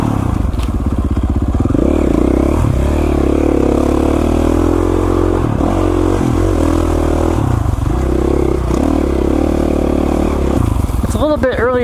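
A KTM 450 dirt bike grinds up slick, steep, rocky mountain single track, its engine loud and continuous with shifting revs, plus rattling and scraping from the terrain throughout.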